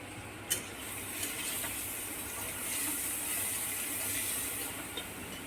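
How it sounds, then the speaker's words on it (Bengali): Potatoes frying in a nonstick pan give a faint, steady sizzle and hiss, with a few soft clicks from stirring over the low background. "ননস্টিকে আলু ভাজি"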